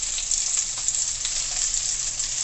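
Fish pieces frying in hot oil for Jamaican curry fish give a steady, bright crackling sizzle, close and continuous without a pause.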